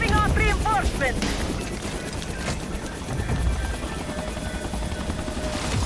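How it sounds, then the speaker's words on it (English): A helicopter arrives during a Call of Duty Black Ops 6 battle, its rotor drone running continuously beneath dense gunfire and bursts of combat noise. "Another helo incoming."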